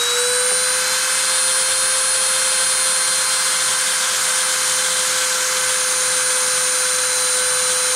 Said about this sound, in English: I'm going to turn on the spindle